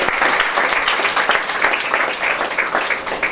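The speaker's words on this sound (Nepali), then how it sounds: "हामी उहाँलाई ठुलो ठुलो ताली बजाएर हामी धन्यवाद" An audience at a church gathering in Nepal breaks into loud, sustained applause, dense clapping filling the whole moment without speech.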